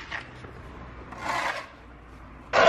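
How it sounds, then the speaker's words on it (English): A shovel scraping snow off a sidewalk in Paris, heard as three short rasping scrapes at a distance, muffled as if from indoors, with the last one louder and sharper. "it's someone actually shoving away the snow from the sidewalk"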